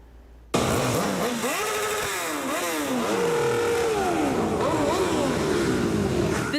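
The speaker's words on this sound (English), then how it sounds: "The sounds of engines echoed through Desert Hot Springs." Motorcycle engines rev and roar loudly in Desert Hot Springs as a community of riders gathers in tribute to a rider killed in a crash, throttles rising and falling in overlapping sweeps throughout.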